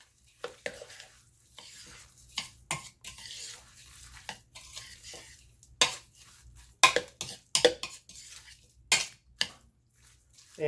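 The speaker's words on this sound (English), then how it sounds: "So what you want to do is get all this mixed up together." Meatloaf ingredients and a whole bag of cheese are stirred together in a bowl, giving irregular clinks and scrapes of a utensil against the dish, close and fairly sharp, with quiet pauses between strokes.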